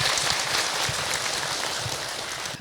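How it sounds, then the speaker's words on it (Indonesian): Audience applause at an Indonesian religious talk show, a steady dense wash of clapping filling the whole stretch at moderate level, with no talk over it. "Tepuk tangan buat ibu yang sudah bertanya."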